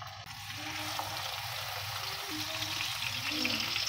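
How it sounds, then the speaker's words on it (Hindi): Flat beef kebabs shallow frying in oil, a steady close sizzle that holds at an even level throughout. "अब मैं ये चपटे कबाब इसमें फ्राई कर लूँगी"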